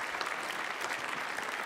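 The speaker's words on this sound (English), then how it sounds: "I think that deserves a round of applause." A crowd at a cricket community event breaks into steady, dense applause, clapping continuously at a fairly even level from start to finish.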